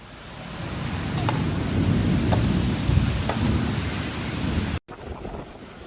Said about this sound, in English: Tokyo submerged in floods amid a violent storm